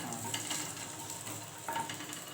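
Curry leaves, onion and tomato fry in hot oil, giving a steady close crackling sizzle with faint stirring scrapes throughout.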